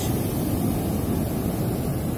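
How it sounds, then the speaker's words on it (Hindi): Strong surf rolls onto a beach near Alleppey, Kerala, a loud, continuous wash of breaking waves mixed with wind buffeting the microphone, with no talk. "जहाँ से लहरें आ रही हैं, बहुत तेज लहरें चल रही हैं, पानी बहता हुआ आ रहा है।"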